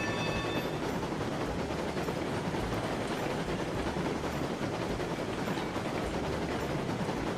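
A DLC Mastodon locomotive from the Railroads Online game runs steadily with a dense, continuous rumble and clatter of rolling rail noise, held at a constant moderate level throughout, with no talk.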